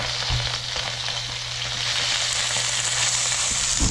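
Tawilis fish fry in hot oil in a pan, a loud, steady, close crackling sizzle with a low background hum and no talking.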